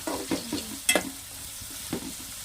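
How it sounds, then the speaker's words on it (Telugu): Light frying and stirring in a pan while ingredients turn golden brown for a fish curry: a soft, steady sizzle punctuated by a few sharp clinks and scrapes, fairly quiet. "గోల్డెన్ బ్రౌన్ కలర్ వచ్చే వరకు వేపాలి కొంచెం లైట్గా"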